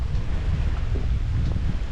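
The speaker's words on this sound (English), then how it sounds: "Not a fan of this wind." Wind buffets the microphone at a dockside fishing spot, a loud, steady low rumble filling the whole moment with no talk.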